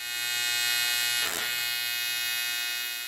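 TIG welding arc buzzing steadily and close up for about three seconds, with a brief disturbance in the middle as the filler rod touches the tungsten, then the even buzz resumes.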